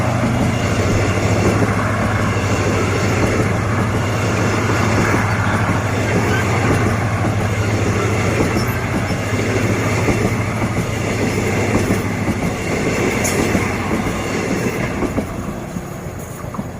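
A Hitachi diesel locomotive, number 4505, hauling train 31 rumbles past a level crossing at Ban Bang Li, Ratchaburi, Thailand, steadily and loudly for the whole stretch, with a low engine drone and rattling wheels, fading slightly at the end.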